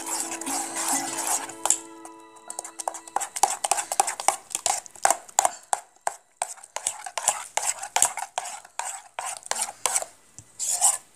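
Amla paste being stirred into beaten curd for raita, with a spoon clicking and scraping in a steady run of quick, close strokes against the bowl for several seconds.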